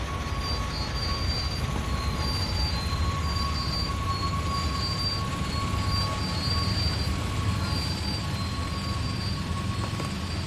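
Train braking in Train Sim World 2, a constant loud rumble of rolling stock with persistent high-pitched wheel squeal whining over it throughout.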